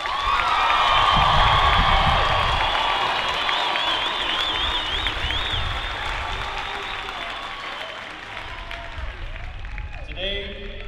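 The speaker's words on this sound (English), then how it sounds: "Everyone, please give them another round of applause." Loud applause and cheering from a ceremony crowd honoring graduating Airmen and Guardians of the 326th Training Squadron, sustained clapping with whoops that gradually fades.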